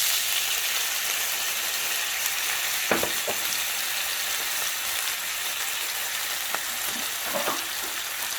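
Tomato, chili and a bouillon cube fry in a pan just used for fish, giving a steady sizzle broken by a few sharp clicks and scrapes of stirring, with no voices.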